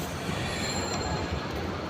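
A train passing over a railway line, a steady broadband rumble of rolling wagons with faint wheel squeal, loud and continuous throughout.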